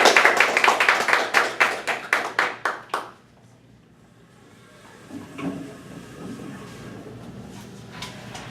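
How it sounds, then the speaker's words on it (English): Audience applause at a Toastmasters club meeting, dense clapping for about three seconds that quickly dies away, followed by a quiet room with faint shuffling. "Please welcome and give a warm applause as he gives his icebreaker, Mr. Sam Bailey."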